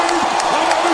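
Arena crowd in Oklahoma City roaring and applauding for Russell Westbrook, a dense, steady wall of cheering with scattered whoops, loud and continuous throughout.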